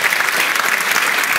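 Brief burst of audience applause at a business innovation event, a thick, steady wash of clapping throughout.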